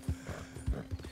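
A horse's hooves clip-clop in Red Dead Redemption 2, four or five quick, close hoofbeats in a short uneven gait, heard alone with no talk.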